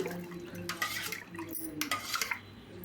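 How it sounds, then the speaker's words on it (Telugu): Pepper rasam stirred in a pot with a utensil, giving light scraping and clinking against the metal over a few seconds, close by with a soft liquid swish. "ఒక్కసారి మొత్తం కలుపుకుందాము చూడండి మొత్తం ఒకసారి కలుపుకొని"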